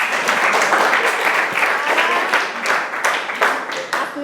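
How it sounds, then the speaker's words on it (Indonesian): Classmates clap in a classroom to applaud a student after a short presentation, a dense continuous patter of many hands held steady for several seconds. "tepuk tangan untuk Adis dulu."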